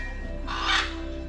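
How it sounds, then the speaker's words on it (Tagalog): A single raspy parrot squawk at a crocodile park and zoo in Davao City, Philippines, brief and moderately loud over a steady background hum. "Parrot."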